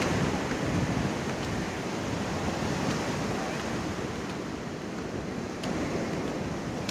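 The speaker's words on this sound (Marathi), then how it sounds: "लाट आलंय मोठं आहे बरं का" Big ocean waves roll and crash continuously on Anjuna Beach in Goa, a loud, steady wash of surf with wind buffeting the microphone throughout.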